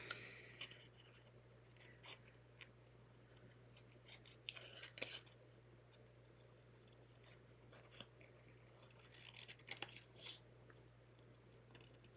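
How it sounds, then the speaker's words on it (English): Scissors fussy cutting around a paper shape, giving quiet, irregular snips and rustles spread across the stretch over a steady low hum, with no talking. "So you'll notice when I'm fussy cutting that I'm moving the paper and not the scissors so much."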